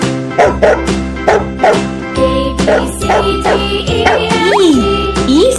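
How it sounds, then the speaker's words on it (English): A dog barks and yips in short repeated bursts over a steady musical backing, with a few whimpering, rising tones toward the end; the barks are clear and fairly close. "Look, a dog."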